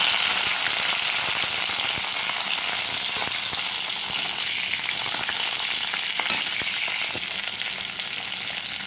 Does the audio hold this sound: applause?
no